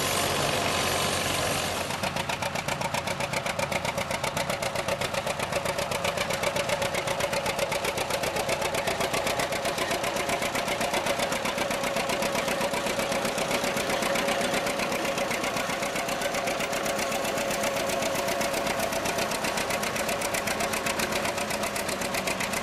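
A steady 1940s Farmall tractor engine runs continuously with a rapid, even chugging rhythm and a constant mid-pitched drone, loud and close throughout.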